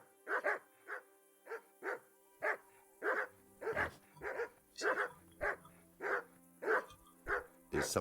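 Dogs in the medieval role-playing game Kingdom Come: Deliverance bark in a steady run of about fourteen sharp, evenly spaced barks, fairly close and loud, with a low game-world hum underneath and no talk.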